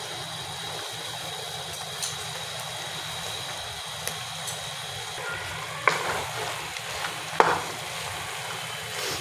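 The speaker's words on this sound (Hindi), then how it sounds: "देखिए जी बहुत अच्छे से फ्राई हो चुके हैं।" Chana dal chickpeas fry in hot oil with a steady, close sizzle, a low background hum running underneath, and a couple of brief stirring scrapes near the end.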